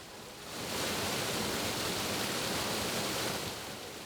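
A huge volume of water rushes through tunnels cut in mountain rock, a steady, dense roar like constant thunder that swells in over the first second and holds loud and unbroken, with no voices.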